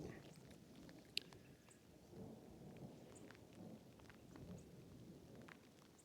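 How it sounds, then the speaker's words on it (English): Low, faint rumbles of far-off thunder rolling under steady rain pattering on a surface, with a sharp drip or tap now and then, during a thunderstorm on the Pacific Crest Trail. "You can probably hear the thunder in the distance."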